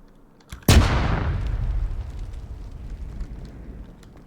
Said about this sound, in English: if I put the satchel over here, satchel, so that should completely destroy that vehicle